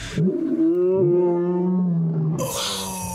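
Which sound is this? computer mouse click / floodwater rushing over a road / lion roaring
lion roaring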